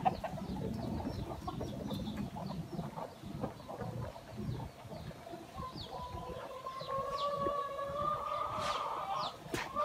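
Gà quế chickens clucking in a garden, a steady scatter of close clucks and calls over a busy background rumble, with a louder sustained call toward the end.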